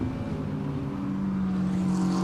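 A DTM race car on a flying lap at Assen during free practice, its engine a steady, loud drone that builds slightly in pitch and intensity, with no commentary over it.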